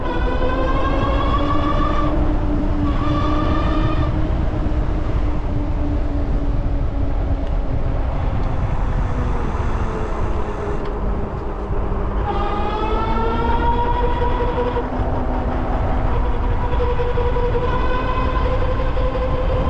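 An Ariel Rider Grizzly electric bike on the street gives off a loud, steady motor whine with layered harmonic tones that climb and fall as it speeds up and slows, alone and close.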